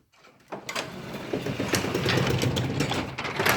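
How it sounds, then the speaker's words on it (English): A sectional garage door rolling open on its tracks, springs clicking and rattling repeatedly in a steady mechanical clatter that starts after a brief quiet and continues close by, loud and alone. "Of course, the springs are clicking a lot."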